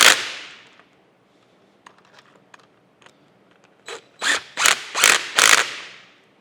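Parts of the steady rest on a Monarch 28-inch lathe being screwed down: after a fading metallic ring and a few faint ticks, a series of five loud, rasping ratchet-like bursts follows close up.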